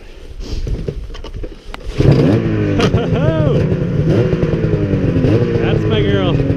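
Pull-start of a warm 600RS wheelie machine engine: a moment of quiet clatter, then the engine catches on the first pull and settles into a loud, close, rough idle with rising and falling revs.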